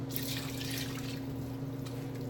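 A cup of water poured into a cooking pot already holding coconut milk, a soft continuous trickling splash heard close up under a low steady kitchen hum, with no talking.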